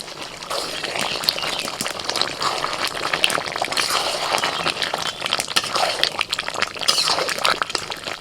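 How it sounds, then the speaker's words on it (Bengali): Water poured into a pan of simmering chicken with masala makes a continuous close splashing, gushing sound with bubbling liquid underneath, steady and fairly loud throughout. "আর একটু অল্প করে আমি জল দিয়ে দিলাম"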